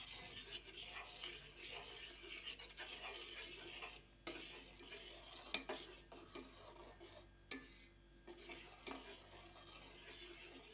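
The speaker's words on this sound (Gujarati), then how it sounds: "હવે આપણે એને આવી રીતના ચલાવતા રહેશું નહીતર નીચે બેસી જાય" Mango pulp (aam ras) being stirred in a pot over a gas flame for aam papad, bubbling as it thickens: a steady, close scraping and rubbing of the spoon against the pot with no talking.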